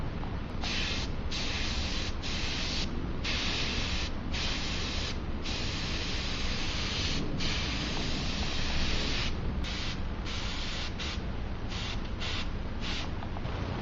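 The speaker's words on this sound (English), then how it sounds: "I'm going to go back in with black. I'm going to airbrush that in." Airbrush spraying black paint onto cosplay armor: a steady close hiss of compressed air with short gaps as the trigger is released and pressed again, no voices.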